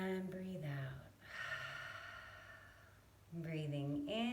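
During a nighttime yoga breathing exercise, a person exhales with a long, deep, audible breath out, breathy and close, sitting between stretches of spoken guidance.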